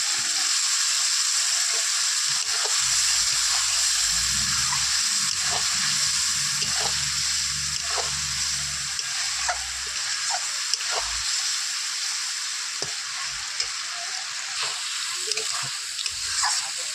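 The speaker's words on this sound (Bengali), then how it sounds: "আমার চিংড়ি দিয়ে মশলা দিয়ে কষানো হয়ে গেছে" Prawns cooked with spices in a hot wok for a village-style Bengali curry give a steady, loud sizzle and crackle, with repeated scraping stirs and a brief low rumble partway through; no one speaks.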